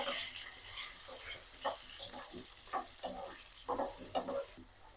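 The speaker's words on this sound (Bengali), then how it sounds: "আলু লাল লাল করে ভেজে নেব।" Potatoes dusted with a little turmeric frying in oil in a home kitchen, a quiet sizzle broken by several sharper stirring scrapes and clinks, close by with no talk.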